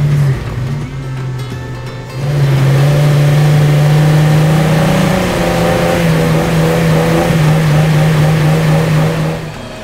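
A Jeep Gladiator engine on the Rubicon Trail holds a steady, loud mid-pitched drone that swells into sustained revving after the first couple of seconds, running continuously close by with no talk.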